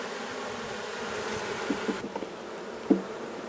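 Honey bees buzz in a steady drone as they are shaken from a hive box into an empty box, with a few dull knocks and thumps from the wooden frames.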